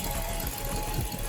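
A Hemi engine in a 1928 Dodge idles close by with a steady, even low rumble and a faint knocking texture, running alone without talk.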